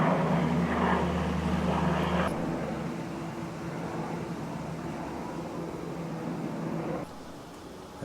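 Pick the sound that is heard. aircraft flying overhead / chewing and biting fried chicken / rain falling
aircraft flying overhead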